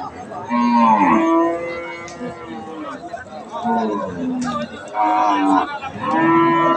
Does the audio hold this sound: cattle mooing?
yes